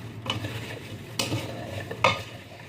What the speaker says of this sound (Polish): I jeszcze posypię cynamonem. Mieszam.